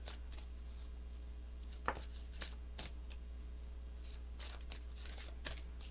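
Tarot cards shuffled by hand in three rounds, giving quiet, close, papery riffles and slaps in short bursts over a steady low hum, with no talking.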